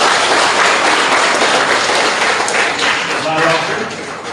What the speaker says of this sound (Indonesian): Tepuk tangan untuk para Bapak Ibu dulu.